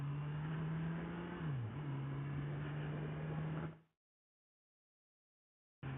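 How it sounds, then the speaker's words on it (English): Engine drone of a Honda CB1000R naked litre motorcycle riding onto a highway, a steady tone that dips briefly as it shifts, then cuts to silence before resuming at the end. "I'm just about to hit a highway now, so you'll get an idea of, or you should get an idea of how comfortable this motorcycle can be to ride."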